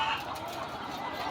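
Chickens cluck steadily at a poultry farm housing egg-laying hens, a dense, continuous flock murmur close by with no talking.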